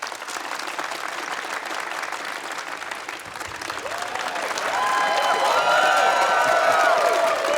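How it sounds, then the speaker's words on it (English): A live audience at a comedy show claps steadily, and the noise swells partway through as cheering and whoops rise over the applause, getting louder toward the end. "So start clapping."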